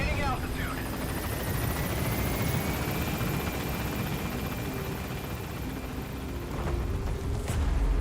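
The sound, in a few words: Pequod helicopter gaining altitude, video game Metal Gear Solid V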